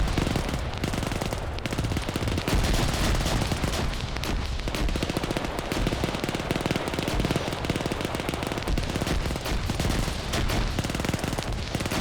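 Marauder units shooting in StarCraft: a dense, unbroken barrage of rapid gunfire and impacts fills the whole stretch, loud and steady, with no voices breaking through.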